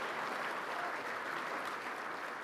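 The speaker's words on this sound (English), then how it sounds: "So yeah, go ahead and clap." Audience applause fills a hall during a speech about an innovation program, a steady wash of many hands clapping at moderate distance, continuous and unbroken.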